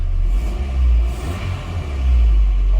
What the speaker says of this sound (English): let's give it a little rev, see how it sounds.